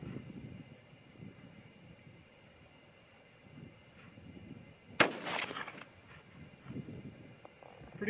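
A single rifle shot from a 25-06 Remington loaded with 100 grain Nosler bullets cracks sharply and loud, then rolls off in a brief decaying echo over faint background rumble.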